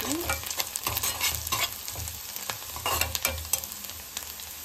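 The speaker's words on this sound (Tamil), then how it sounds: "நல்லா ஃப்ரை பண்ணிக்கலாம்." Loud, steady sizzle of fish frying in a pan, with stirring scrapes at a regular rhythm and no talk.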